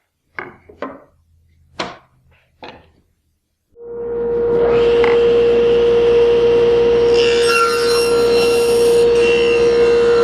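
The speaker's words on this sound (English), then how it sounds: "And now I'm ready to cut safely." A SawStop table saw cuts a rabbet joint in wood: a few short knocks and scrapes while the board is positioned, then the motor spins up to a loud, steady whine, and the blade chews through the stock with a rising rasp.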